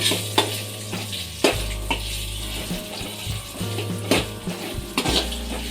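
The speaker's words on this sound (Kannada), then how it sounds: "ಅರಿಶಿನ ಪುಡಿ ಹಾಕಿ ಎಣ್ಣೆಯಲ್ಲಿ ಚೆನ್ನಾಗಿ ಫ್ರೈ ಮಾಡ್ಕೋಬೇಕು" Turmeric powder frying in oil in a pan for a drumstick fry, a continuous sizzle broken by repeated metallic clinks and scrapes of a spoon stirring against the pan.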